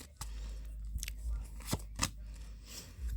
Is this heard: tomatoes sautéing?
no